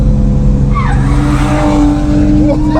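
A drifting BMW E30 at a drift event roars loudly and steadily, its engine drone mixed with tire squeal and skidding noise, with the underside scraping somewhere in the din.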